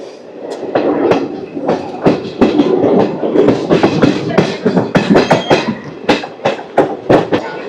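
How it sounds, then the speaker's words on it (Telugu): Rayagada–Guntur Express rolling on rails after leaving Parvathipuram, loud rhythmic clickety-clack of wheels over rail joints with a steady rumble heard from aboard, gathering pace, no talk. "పార్వతీపురం నుంచి అయితే మన ట్రైన్ అయితే స్టార్ట్ అయిపోయింది"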